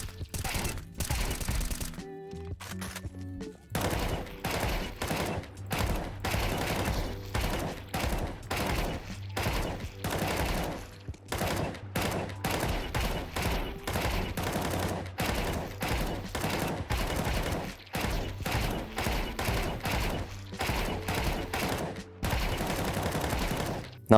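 Rapid bursts of M4A4 rifle fire in Counter-Strike 2 aim training, loud sharp shots repeating steadily in short volleys with brief gaps throughout, no talking.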